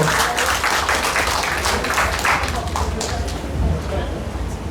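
Guests at the opening ceremony of a rhythm dance academy in Korea applaud, a broad, steady patter of clapping that fills the room while voices carry over it.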